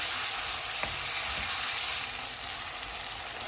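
Chilli sauce, soy sauce and ketchup hiss and sizzle in a hot pan for chilli chicken, stirred together. A continuous close frying hiss with one brief clink and no voices.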